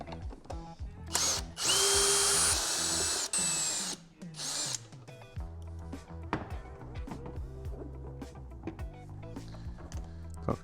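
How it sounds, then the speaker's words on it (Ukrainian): A power screwdriver backs screws out of the casing of a Vitals Master Am 7.8-195w pressure washer, giving one loud, steady whirring burst of about three seconds, followed by softer clicks and knocks as parts are handled. "Кладемо мойку на передню панель і відкручуємо тут ще три гвинти."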